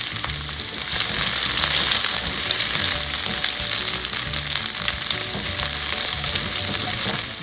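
Onions sauté in hot oil in a pan, giving a loud, steady, close crackling sizzle that runs unbroken with no voices.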